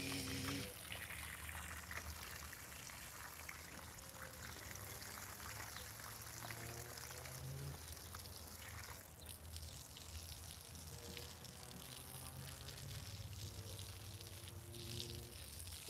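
Steady jet of water from a garden hose pours and splashes onto fruit trees outdoors, a continuous rushing trickle lasting throughout with no talk over it.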